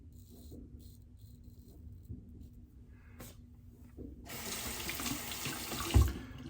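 A tap turns on and water runs steadily into a sink while lathering Mitchell's Wool Fat shaving soap, a bright rushing stream following a quieter stretch with faint background noise.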